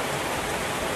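Steady rain pours in Wonosobo, a continuous broadband hiss of drops on surfaces, even and close throughout with no voices.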